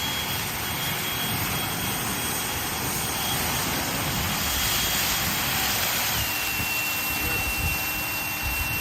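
Ego electric leaf blower running at full turbo power, giving a steady, loud, continuous rushing whoosh with a high whine, unbroken for the whole stretch.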